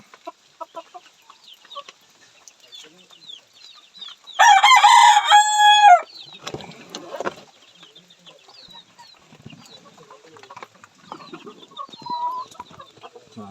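Chickens panicking inside a coop while a python grips one of them: a loud burst of shrill squawking and cackling for a couple of seconds, then scattered softer clucks and rustling.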